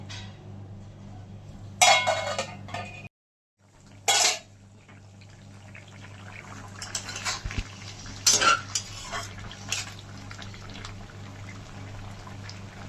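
Utensils scrape and clink against a pot as a posto dish of drumsticks and potatoes is stirred with water and covered, in short bursts separated by a brief silence, over a steady low hum.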